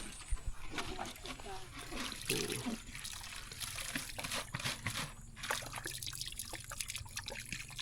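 Water trickles and splashes at a rural Lao village drinking-water spring, a soft continuous dribble with occasional splatters, faint and close, while people talk nearby.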